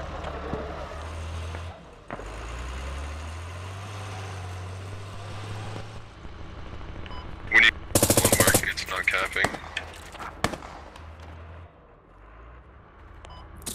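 Automatic gunfire in a video game: a dense, loud burst of rapid shots lasting about a second, followed by a few scattered single shots. An engine drone comes before it, and players talk over the action.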